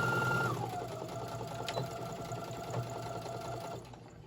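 A sewing machine runs a steady stitch across the fabric of a small Santa sack, with a continuous, even whir that holds for about four seconds and then stops.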